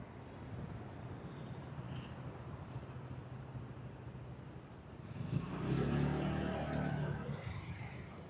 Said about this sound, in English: This is a busy street as far as a lot of walking traffic.